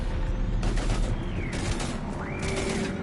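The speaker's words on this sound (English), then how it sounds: "We're taking heavy fire." Sustained gunfire in a Mass Effect firefight, loud continuous bursts and rattling shots with whooshing sweeps layered over dense background battle noise.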